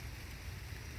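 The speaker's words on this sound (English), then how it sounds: "It's raining again" Steady outdoor rain pours down during a storm, a dense continuous hiss with a low rumble beneath and no voices.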